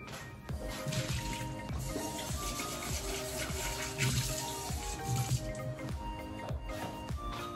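Water runs steadily from a tap while a pet's bowl is rinsed and refilled indoors, a continuous splashing gush with small knocks and squishes over about seven seconds, no talk.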